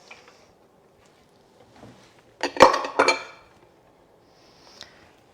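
Washed lentils and walnuts tip into the bowl of a Magimix Cook Expert in one short, loud clattering rush lasting about a second, framed by faint clinks and near silence.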